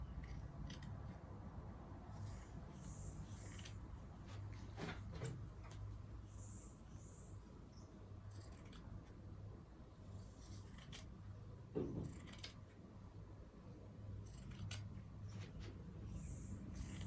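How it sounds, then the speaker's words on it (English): Scissors cutting fabric for a one-shoulder kaftan gown, faint close snips and rustling rubs scattered irregularly over a quiet room background. "then you will cut it out."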